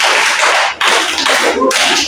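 Claps in a classroom ice-breaking clapping chant, loud sharp bursts of hand claps in three rhythmic groups separated by brief pauses, with no talking.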